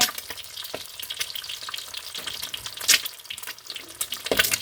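Food fries in a pan with a steady, close sizzle, broken by sharper crackles and stirring scrapes, with no voices.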